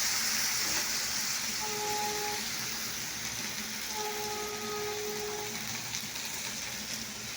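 Steady hissing sizzle of cumin seeds and water in a hot pan while okra fries, a close broadband wash that holds evenly throughout, with a couple of faint tonal hums in the background.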